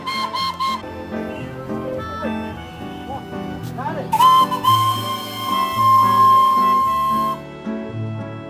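The whistle of the Darjeeling toy train near the Batasia Loop sounds as a sustained, steady tone that holds for a few seconds, heard close among people talking.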